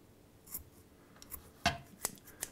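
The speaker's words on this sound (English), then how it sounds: "So I'm just going to sort of trim it off about there." Scissors snip a cotton wick on a Patriot UFS e-cigarette atomiser, faint close-up rustling broken by a few short, crisp cuts, the loudest in the middle and two more toward the end.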